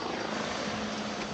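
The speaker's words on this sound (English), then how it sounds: "now a helicopter going overhead." A helicopter passes overhead above a race track setting, a steady rotor and engine drone at moderate distance, continuous and fairly even throughout with no voices.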